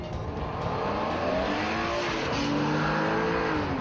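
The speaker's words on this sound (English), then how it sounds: "Then we lined them up for a bit of a standing start race." Two equally powered cars, one a BMW M3, accelerate from a standing start race, engines revving loudly and climbing through the gears with rising tones, tire squeal mixed in, close and continuous.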